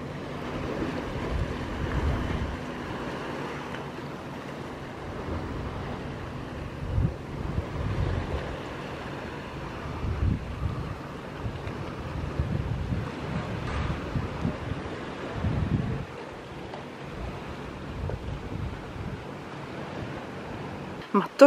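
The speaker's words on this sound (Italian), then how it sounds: "vi lascio qualche secondo di ASMR per godervi il rumore del mare" Indian Ocean waves wash near a water villa in the Maldives, a soft continuous surf with gentle swells and light wind rumble on the microphone.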